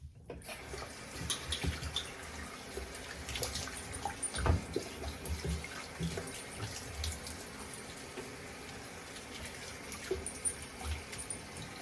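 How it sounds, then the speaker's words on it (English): Tap water runs steadily throughout, a soft continuous splashing with occasional louder splatters, close by and with no voices. "I'm using a little cold water to close up the pores."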